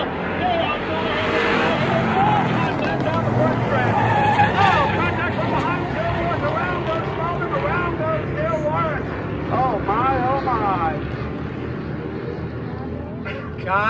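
Street stock race cars slide sideways three wide through a corner at Oxford Plains Speedway, a loud continuous roar of engines with tire skidding and crowd babble, a commentator talking over it throughout.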